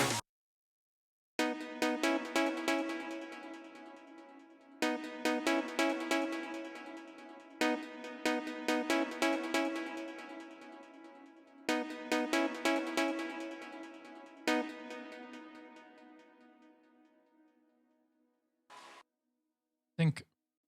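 Trance synth lead made with Sylenth, bright buzzy stabs in repeated rhythmic bursts with gaps between phrases, ending in a few short isolated hits.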